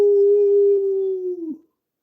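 A human voice imitates a coyote howl with one loud, sustained, steady tone that bends down and breaks off at the end, heard alone.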